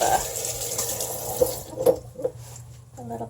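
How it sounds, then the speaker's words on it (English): Hands rinsing under a running tap in a sink, a steady splashing water flow with small drips and splashes, close by and moderately quiet. "I'm going to go ahead and rinse my hands real quick"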